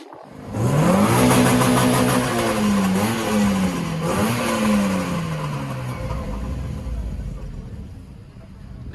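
A Renault Clio 3 RS Cup cranks and fires up, then revs up sharply twice, rising and falling loud and close before settling to a lower, steadier idle.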